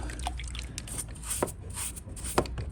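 Water drips softly while a part of a Kawasaki ZX12R motorcycle with an overheating problem is being wetted, with a few faint, scattered drops falling close by in a quiet space.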